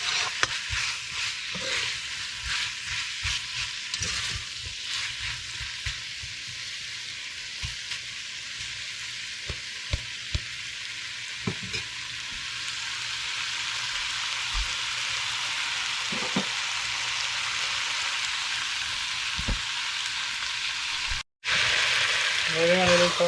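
Potato and chickpeas for a curry sizzle and fry in a pot, a steady loud crackling hiss with occasional stirring scrapes and clinks, and a brief pause near the end.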